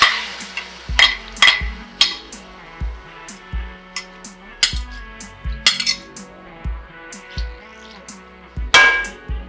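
Boiled macaroni going into a pan with oil and garlic, heard as a string of sharp metallic clinks and scrapes of a spoon against the pan, close and irregular, with a faint sizzle underneath and no talking.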